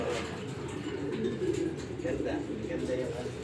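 Domestic pigeons coo in a loft, a low, steady murmur of overlapping calls close by, with voices talking over them throughout.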